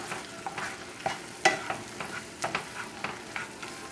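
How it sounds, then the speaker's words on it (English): Flour and butter roux stirred in a pan for a shrimp Bienville sauce, giving soft scraping strokes with light clicks of the utensil against the pan over a faint sizzle, near and moderately quiet, with no talking. "put it in there, mix it around, picks up the roux"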